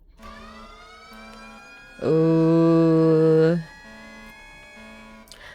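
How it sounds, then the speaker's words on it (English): Ear-splitting siren on a bus in the Limbus Company video game, a loud, steady, harmonic-rich wail blaring for about a second and a half over game music, with a brief exclamation from a voice nearby. "An ear-splitting siren blares all the way here from the other end of the bus."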